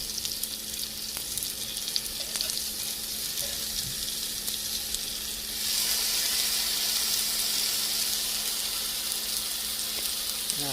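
Food sizzles steadily in a hot frying pan, a dense close hiss that grows louder and brighter midway as the pieces are flipped over, with faint scraping from the turning.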